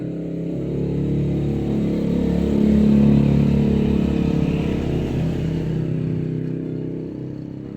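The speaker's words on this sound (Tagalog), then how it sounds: "Daming mga motorsiklo na dumadaan." Several motorcycles pass by on a road, engines swelling to a loud rumble and fading as they go past, with no talking over them.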